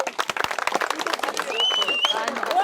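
An audience claps in a short burst at a Kannada stage show, the quick claps mixed with a voice and a thin whistle-like tone.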